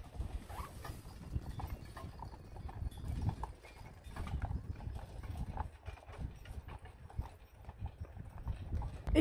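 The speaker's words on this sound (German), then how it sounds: "Pferde." Horses' hooves clip-clop in a steady, uneven rhythm of soft thuds on a winter outing near Mittenwald, fairly close and moderately loud, with faint background noise and no talking.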